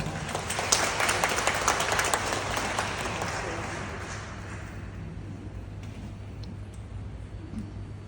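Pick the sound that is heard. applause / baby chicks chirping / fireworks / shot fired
applause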